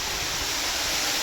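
Water gushes under high pressure from a GK Energy 5 HP solar pump with a 30 meter head, a loud, steady, close-up rush of spray with no pauses.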